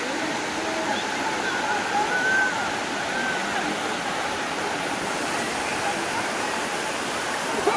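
Caunayan Falls waterfall roars with a steady, dense rush of falling water heard up close, an unbroken wash of sound that fills the whole stretch without pause.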